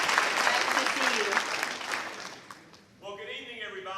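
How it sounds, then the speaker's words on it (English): Crowd applause at an awards showcase event greeting a visiting mayor, a burst of clapping that fades out, followed by someone speaking. "Everybody give him a round of applause"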